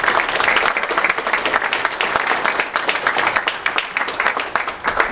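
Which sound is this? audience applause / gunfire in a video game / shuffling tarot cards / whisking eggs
audience applause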